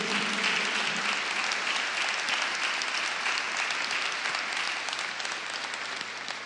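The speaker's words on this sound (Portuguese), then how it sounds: "Aplauda para valer." Sustained applause from a church congregation at a Catholic revival preaching service, a dense steady roar of many hands that fades slightly toward the end, with no talking over it.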